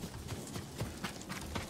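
A horse gallops in the video game Ghost of Tsushima, a quick run of rhythmic hoof clops at a steady pace, close and fairly quiet, with no talk.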